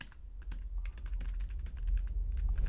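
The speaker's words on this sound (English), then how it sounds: "And here it is, the Nintendo Switch keyboard." Someone types on a small keyboard made for the Nintendo Switch, a quick, uneven stream of close plastic key clicks over a low background rumble.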